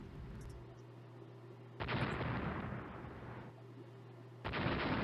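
Naval gun salvos in the Rule the Waves game: two loud broadband blasts, each a sustained roar lasting a couple of seconds, set against a steady low engine hum.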